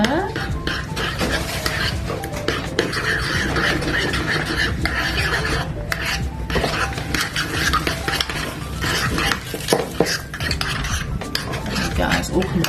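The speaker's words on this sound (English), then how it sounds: "Give it a stir." A mixture being stirred in a bowl, continuous scraping and clinking of a utensil against the sides, close and fairly loud, with someone talking over it.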